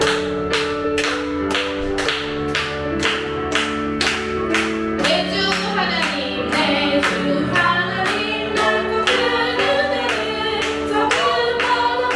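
A church congregation at a revival Bible meeting claps in steady rhythm with worship singing and music, crisp evenly spaced claps that continue over sustained voices and instruments throughout.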